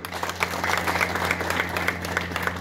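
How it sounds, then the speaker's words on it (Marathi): Applause from an audience at a police station inauguration ceremony in Achalpur, Amravati, a steady wash of clapping with a low hum underneath, continuous through the short stretch at moderate distance. "टाळ्या वाजवायच्या"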